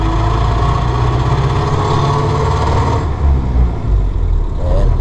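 Ford Model A engine pulling from a start up into second gear, a loud, close, steady mechanical drone with low rumble that shifts pitch slightly around the midpoint, no talking.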